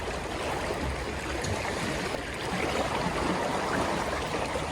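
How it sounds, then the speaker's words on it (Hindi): Dense, loud rushing water churns without pause, like big waves whipped by wind around a sinking boat. "ये बड़ी लहरें और हवाएं,"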